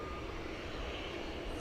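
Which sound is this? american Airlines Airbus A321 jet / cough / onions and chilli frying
american Airlines Airbus A321 jet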